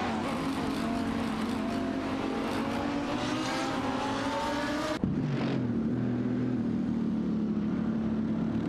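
Race cars in an AI-driven racing game roar past with engine pitches climbing steadily, then a sharp cut at the halfway point to a lower, steadier engine drone; loud and continuous with no talk.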